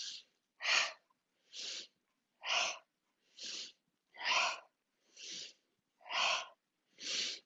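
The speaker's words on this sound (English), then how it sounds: "As you sniff, sniff a little bit more vigorously." Vigorous sniffing breaths in a yoga breathing exercise: nine sharp, evenly spaced sniffs, each a short airy burst, close to the ear with silence between them.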